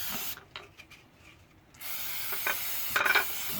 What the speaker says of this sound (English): Go ahead and spray that down. And basically just blasting that stuff away.